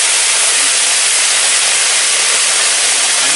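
A large fish deep-frying in hot oil in a nearly overfilled wok gives a loud, steady, dense sizzle and hiss that continues unbroken throughout, with no talking.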